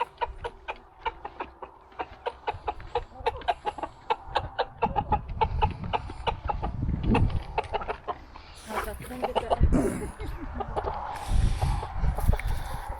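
Chickens cluck busily and continuously, with dense overlapping calls close by, growing louder and more varied toward the end.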